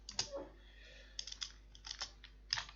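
Typing on a computer keyboard while entering a task name in project planning software: several short bursts of light, close key clicks separated by brief pauses, in a quiet room.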